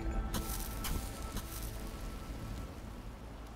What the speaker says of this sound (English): Oh, I like this rain. I like all these effects.